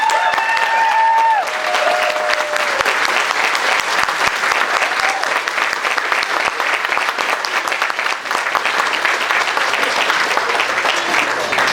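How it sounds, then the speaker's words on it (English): Sustained, loud applause from a dinner audience at a WTA event fills the whole stretch, dense clapping from a large room with a few brief tonal sounds early on and no speech. "ladies and gentlemen, let's, a round of applause"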